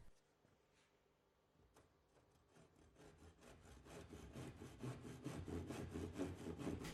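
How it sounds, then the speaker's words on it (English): A tenon saw cuts into timber clamped in a vise: after a few tentative strokes, rhythmic back-and-forth rasping grows louder and faster, close up and alone. "Secure the section of timber in a vise and use a tenon saw to cut just inside of the pencil marking outlines."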